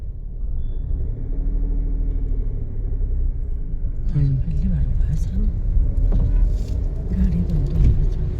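Car engine idling and then pulling away in first gear during a driving lesson, a steady low rumble that rises slightly as the clutch is released, while an instructor talks over it throughout.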